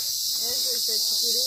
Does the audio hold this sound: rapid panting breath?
no